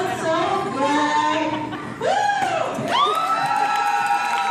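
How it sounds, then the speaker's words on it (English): Wedding guests breaking into cheers and clapping after a speech, a loud crowd burst with whoops and a rising swell of voices. "And of course everyone claps after she's done."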